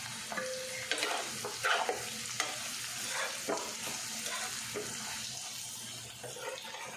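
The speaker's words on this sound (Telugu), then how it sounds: "ఇప్పుడు మన బోటీ బాగా ఫ్రై అయిపోయింది కదా" Goat tripe fries in a pan for a gongura curry, a steady hissing sizzle broken by scraping stirs and light clinks, close and moderately quiet, with no talking.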